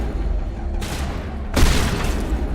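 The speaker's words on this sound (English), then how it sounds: "Time for the shotgun." Shotgun blasts in the video game Mass Effect 1 Legendary Edition, two loud broadband bursts with a sustained roar after each, the second heavier, over continuous game background noise.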